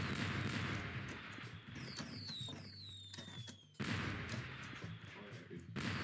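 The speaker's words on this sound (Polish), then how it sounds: "Reigns, te fajerwerki nas atakują." Rapid crackling bursts and whistling streaks of fireworks going off in the survival game Domkowy survival, layered over a dense, loud background of noise.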